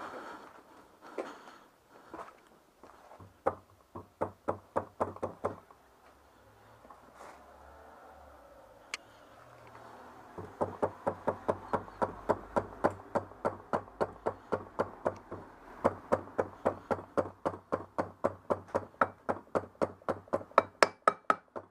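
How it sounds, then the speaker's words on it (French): A chisel taps a new oil seal into the rear wheel hub of a Citroën 2CV, with close, sharp knocks in short bursts at first, then long steady runs of evenly spaced blows. "J'ai pas de maillet, donc je vais y aller doucement au burin."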